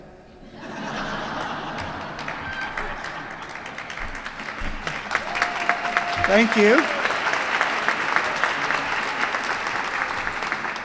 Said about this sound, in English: It's good that you can get some applause on your 3rd day.